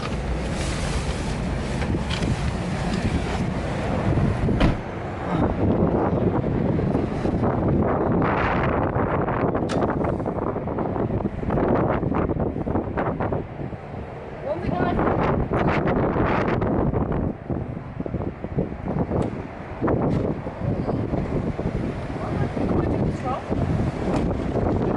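Strong gusting wind buffets the microphone outdoors at a motorway services electric car charger, a loud continuous low roar that surges and eases in waves for the whole stretch.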